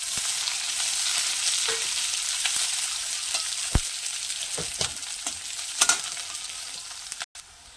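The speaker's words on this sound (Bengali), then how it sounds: "আর মরিচ ভাজা হয়ে গেছে, এখন আমি দুইটা পেঁয়াজ একটু দিয়ে দিলাম।" Onions go into a pan of fried chillies and hot oil, producing a dense, continuous sizzle up close, broken by several sharp spatula taps and scrapes near the end.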